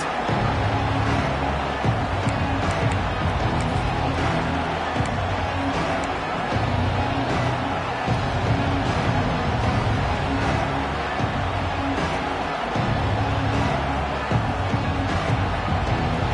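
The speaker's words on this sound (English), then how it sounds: "This crowd still bringing the intensity to open the second half." A packed college football stadium at Nebraska versus Tennessee roars in a dense, continuous wall of crowd noise to open the second half, loud and unbroken, with a commentator talking over it.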